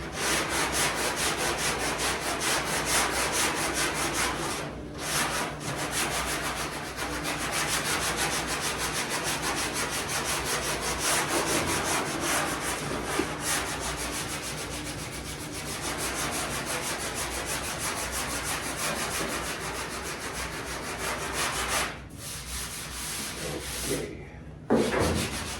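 Steady, close abrasive rubbing of sandpaper over body filler on a car's metal panel, continuous strokes running almost without pause, with a couple of brief breaks near the end.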